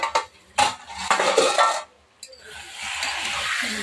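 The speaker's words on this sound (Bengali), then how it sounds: "ভালো করে নাড়াচাড়া করে দেবো।" A spoon clinks and scrapes against a pot as chicken curry is stirred and fried down, with brief metallic knocks at first, then a softer continuous sizzle.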